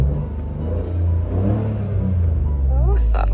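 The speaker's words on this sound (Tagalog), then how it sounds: "Pakinggan natin yung sound nung start na galing sa loob" A Mitsubishi Mirage Hatch fitted with a chambered muffler runs with a low, steady engine rumble heard from inside the car, the pitch shifting slightly as a voice talks over it.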